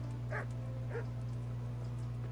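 A dog in the video game Kingdom Come Deliverance gives two short, muffled barks or yips, faint against a steady low hum of game ambience.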